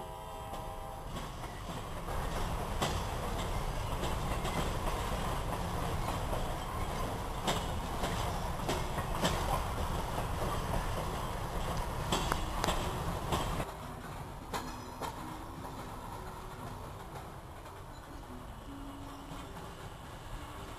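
A freight train rumbles past steadily with a broad roar and rattling, clanking wheels, fairly close, then the noise drops to a lower, quieter rolling.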